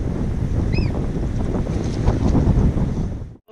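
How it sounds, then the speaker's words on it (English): Strong wind buffets a sailboat under way off Freycinet, Tasmania, a steady loud rush and roar of gusts on the microphone with water noise beneath, ending in an abrupt cutoff. "The wind is pumping outside, and we're just sailing for another little spot to take cover."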